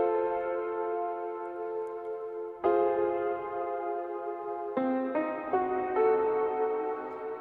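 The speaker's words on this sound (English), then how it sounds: "So the creepy haunted house piano" Sustained, eerie electronic keyboard tones shifting through a few held chords, with long ringing reverb and no voices.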